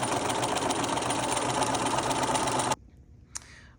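A domestic sewing machine runs steadily, stitching fabric pattern pieces with a fast, even mechanical whir for nearly three seconds, then stops abruptly, followed by a single small click.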